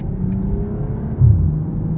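A 2023 BMW M440i Gran Coupe, rear-wheel drive, accelerating in Sport Plus mode, its engine note droning low and steady, then jumping abruptly louder around a firm gear change, heard from inside the cabin.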